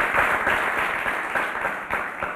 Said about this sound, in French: on peut applaudir très fort pour Fiston Saïsaï